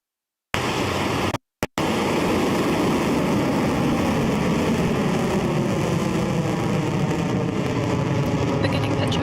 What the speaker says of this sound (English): Liftoff.